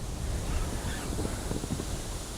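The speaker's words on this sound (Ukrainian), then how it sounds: "Вітер посилюється, друзі. Стає більш потужний." Steady, loud wind roars over the microphone with a broad rushing hiss, sounding like strengthening autumn gusts along open water.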